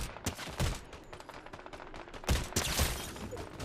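Rapid bursts of assault rifle fire in the video game Fortnite, a twin mag AR among the guns, crackle in quick irregular volleys with a couple of louder close shots standing out.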